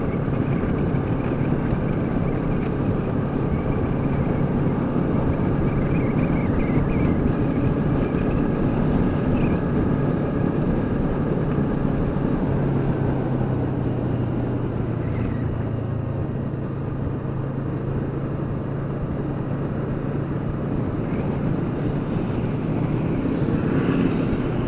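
A sport motorcycle, one of a Honda CBR650F, Honda CBR500R or Yamaha R3, cruises at highway speed. A steady engine drone mixes with heavy wind rush, and the pitch shifts slightly midway.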